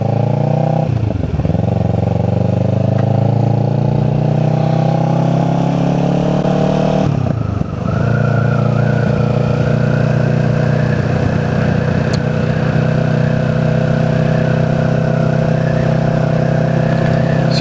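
A Kawasaki Z650 motorcycle engine runs loud and close, dipping briefly between two gear shifts before pulling steadily at high revs, heard from the rider's seat with wind noise.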